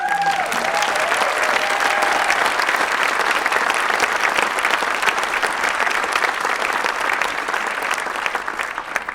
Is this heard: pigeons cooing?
no